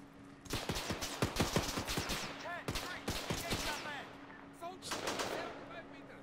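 Rapid bursts of gunfire in a Second Korean War combat video game, sharp cracks in quick clusters with scattered single shots and ricochet-like whines, fairly close and continuous over several seconds.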